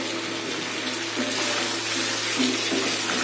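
Water pours into a curry cooking in a pot at home, making a continuous close gush and splash with a low background hum and no talking.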